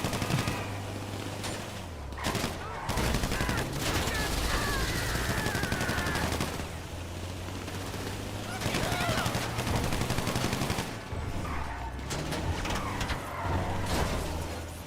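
Gunfire crackles through a GTA Online heist getaway, bursts fired from a van amid vehicle engine noise, loud and repeated over about fifteen seconds with short pauses between volleys.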